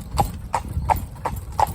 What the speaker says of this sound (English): trot babe, just go away at a nice trot like that.